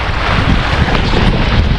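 Strong coastal wind buffets the microphone on the shore of Ko Si Chang, a loud, continuous roaring rush with gusty low rumble and no talking.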